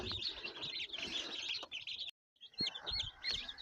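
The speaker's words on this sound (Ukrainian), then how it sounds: "Тут у нас цесарятка і курчатка." Many guinea fowl chicks and chicken chicks chirp and peep busily and continuously, high-pitched calls overlapping close by, with a brief silent gap partway through.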